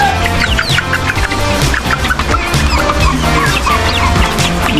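Native chickens, penned alongside turkeys and ducks during the rainy season, cluck and chirp busily up close, with overlapping calls and occasional louder squawks throughout.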